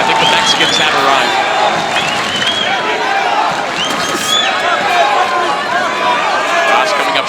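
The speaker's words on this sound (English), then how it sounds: "Crowd starting to rally behind Munguia here" A boxing arena crowd for Jaime Munguía against Surace roars steadily and loudly throughout, with a dense wash of cheering and shouting and no quiet spells.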